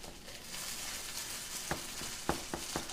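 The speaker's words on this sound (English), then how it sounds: "I love the sizzle of latkes in the morning." Latkes sizzle and crackle in hot oil in a pan, a steady close hiss broken by a few sharp pops and utensil taps near the end, with no voices.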